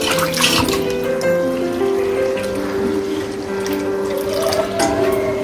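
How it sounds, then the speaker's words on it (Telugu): Water poured into a pot of pepper rasam, a steady, close, fairly loud stream splashing and gurgling continuously, with a bright ringing tone throughout. "నీళ్ళు పోసుకోవాలి"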